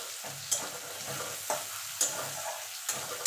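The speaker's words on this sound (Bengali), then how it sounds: "এবার ভালো করে ভেজে নেব লাল লাল করে" Pieces of tilapia fish fry in hot oil in a pan with a steady close sizzle, broken by a few sharp scrapes and clicks of stirring at irregular intervals.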